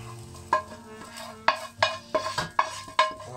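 Onions and beef short ribs fry in a pan as they are stirred together, with repeated clattering scrapes and knocks of the utensil against the pan over a steady low sizzle.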